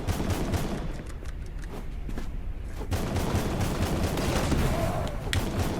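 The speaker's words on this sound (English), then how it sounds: "Fireworks." Fireworks burst in the video game Summum Aeterna, a rapid crackling volley of sharp explosive pops that briefly thins out, then resumes in a dense, loud barrage.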